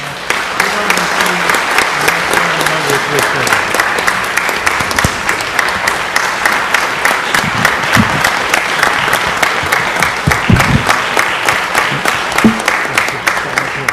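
Steady, enthusiastic applause from a sizable audience carries on without a break, loud and close.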